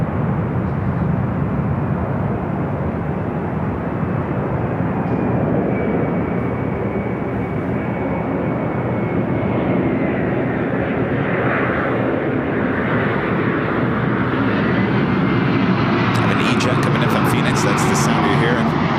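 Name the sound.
jet airliner taking off from LAX runway 24 left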